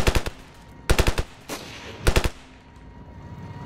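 Automatic gunfire in the Ravenfield video game, delivered in three sharp bursts of several rapid shots each over a steady background hum, loud and close with a fading tail after each burst.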